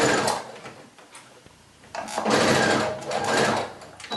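Sewing machine lock-stitching down the edge of a pajama pant seam, running in two bursts separated by a short pause, close and fairly loud with a steady rapid mechanical chatter.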